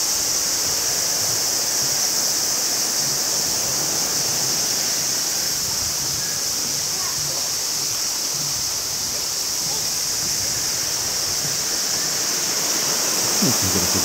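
Continuous rushing water of a river flowing past a campground in Japan, a steady broad hiss with no pauses, fairly loud and close.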